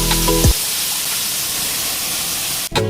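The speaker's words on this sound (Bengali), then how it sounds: "জিরে বাটা, আদা বাটা, দিয়ে দিচ্ছি ডাল।" Lentils go into a pan of frying cumin and ginger paste, setting off a loud, close, steady sizzle that hisses on for a few seconds after a brief clatter.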